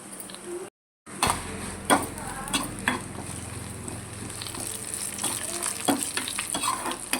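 Cumin, asafoetida and a pinch of turmeric crackle in hot oil for a tempering with chillies and curry leaves: a close, busy sizzle with spoon scrapes and pan clinks, broken briefly by a short silent gap near the start.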